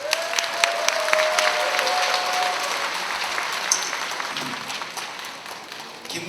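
A crowd applauds steadily at a rally, dense clapping filling the room at an even level from start to finish.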